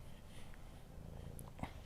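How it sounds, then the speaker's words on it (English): A cat purring steadily and close by, a low continuous rumble at a quiet level that runs throughout, with a faint brief sniff or snort near the end. "Can you hear these purrs?"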